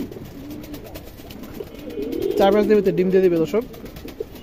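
Large Indian Kaldom pigeons coo in a close, burbling phrase that rises midway through, while someone talks over and around the birds.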